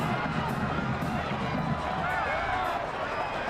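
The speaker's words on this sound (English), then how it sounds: "Searcy crowd trying to make as much noise as they possibly can" A high school football crowd at a Searcy game roars and shouts from the stands in a continuous, dense wash of cheering, with a voice audible amid the din.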